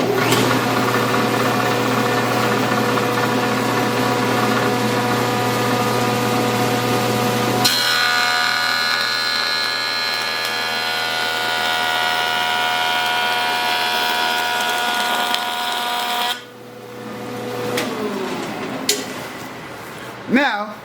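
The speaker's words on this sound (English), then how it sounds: "Now I proceed to cut on my machine." Jointer planer cutting a wooden board in a workshop: a steady, loud machine drone with a sharp change in cutting tone partway through, then the motor winding down near the end, with some talk over it.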